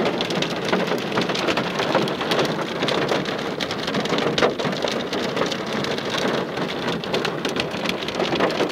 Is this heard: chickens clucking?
no